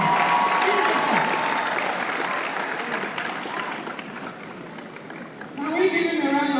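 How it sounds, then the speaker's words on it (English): Audience applause at the end of an undergraduate design thinking class at Covenant University, a sustained wash of clapping from a room of students with voices mixed in, fading slightly before a burst of talk and cheering near the end. "Can we give him a round of applause?"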